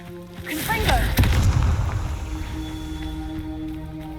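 A Confringo fire spell exploding in the video game Hogwarts Legacy: a whooshing cast followed by a deep, loud boom that rolls and slowly fades under a steady game-music drone.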